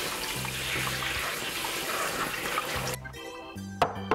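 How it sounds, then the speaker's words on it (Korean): Aged kimchi is rinsed under running water in a kitchen, a steady splashing rush for about three seconds before the flow stops, with a low hum and a couple of faint knocks after. "묵은지는 물에 씻어 준비해줍니다."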